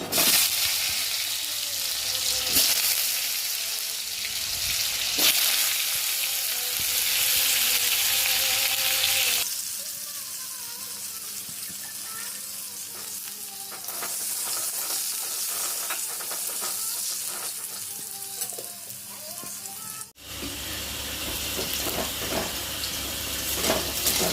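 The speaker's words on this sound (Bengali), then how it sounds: "আলুগুলো একটু লাল লাল করে ভেজে নিলাম" Potatoes fry in hot oil with whole garam masala for a Bengali vegetarian dhokar dalna, a continuous close sizzle with occasional stirring scrapes; midway the crackle shifts to a quieter, hissing phase before loud sizzling returns.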